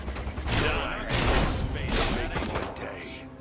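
Explosions and rapid gunfire in the video game Destroy All Humans!, with several heavy blasts and crackling bursts arriving in waves, loud and close, with metallic mechanical clatter between them.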